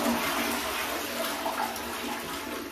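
A toilet flushes with recycled water from a Hydraloop greywater unit, a steady close rush of running water throughout with no voices.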